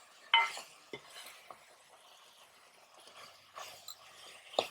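Vegetables for Central Travancore-style sadhya sambar, seasoned with turmeric and salt, being stirred and sautéed in a pot, with a few sharp spoon scrapes and clinks over a faint, quiet sizzle.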